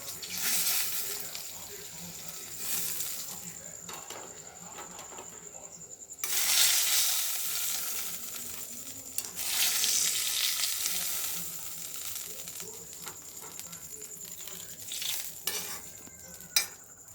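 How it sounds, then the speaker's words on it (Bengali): Onion and besan fritters frying in reused oil: a continuous close sizzle and bubbling, with occasional utensil clinks and stirring scrapes, swelling louder at moments as batter is added. "ওই একই তেলে দুটো পেঁয়াজ দিয়ে বেসনের পেঁয়াজি মতো করে নিচ্ছি"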